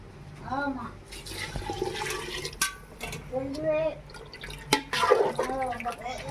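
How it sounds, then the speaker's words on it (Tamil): Water splashes and trickles as it is poured into a pot of country chicken curry with chicken masala, in uneven bursts under intermittent talking. "ஃப்ரெண்ட்ஸ் தண்ணி ஊற்றிக்கலாம்"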